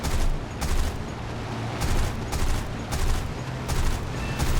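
Guns of a P-39N-0 aircraft firing in War Thunder, repeated loud bursts of rapid cannon and machine gun fire over a steady engine drone.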